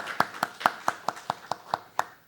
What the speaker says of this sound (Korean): 우리 아버지가 하셨습니다. 박수!